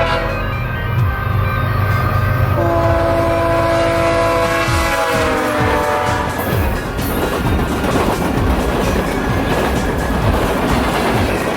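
A BNSF northbound train at night near Crowley, Texas, sounds a sustained horn blast that fades into heavy rolling rumble and clattering wheels as the cars pass close by.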